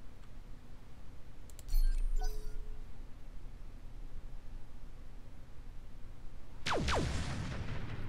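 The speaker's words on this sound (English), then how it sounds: "No, the bombard's still going." Bombard artillery in the Roguetech mech game fires: a deep low thump near two seconds, then a loud sweeping whistling blast around seven seconds, both over steady background rumble.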